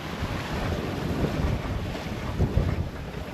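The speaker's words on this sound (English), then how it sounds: "Wind's coming, like I said, from the southwest." Steady wind roars and buffets the microphone aboard a sailboat heading toward Boothbay, with a southwest breeze over the water and soft wave wash beneath, continuous and fairly loud throughout.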